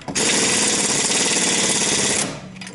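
A loud, continuous rattling power tool, likely a pneumatic impact wrench tightening bolts during wheel alignment work on a Lada 2114, runs steadily for about two seconds close by, then cuts off.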